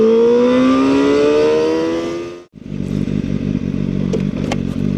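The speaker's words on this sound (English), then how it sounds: "riding this beautiful Voom 500 SR. I'll tell you guys that it sounds amazing." A Voom 500 SR motorcycle riding through the city, loud and close, its engine note rising in pitch through a gear, dropping briefly at a shift, then a rougher, rattling drone as it pulls on.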